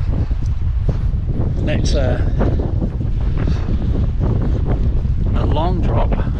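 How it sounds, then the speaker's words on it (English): Strong wind buffeting the microphone outdoors on Chatham Island, a loud, constant roar and rumble under which a voice speaks. "enjoy the wind."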